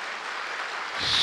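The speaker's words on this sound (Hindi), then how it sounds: "एक बार ऐसी ज़ोर से ताली होगी" An audience at a silver jubilee celebration at Gyan Sarovar breaks into loud applause, a dense burst of clapping that swells near the end of a very short moment.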